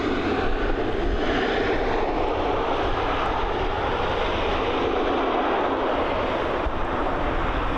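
Boeing 737 MAX airliner rolling out after a slightly bouncy landing at Dublin Airport, a steady loud broadband roar of engines and reverse thrust, heard from a distance and sustained throughout with no talk.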